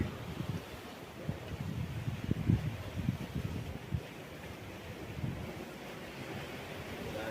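Water washing against a rocky coast at Long Chao Kok, Macau, low surging splashes rising and falling irregularly, moderately near, mixed with outdoor wind noise and no talking.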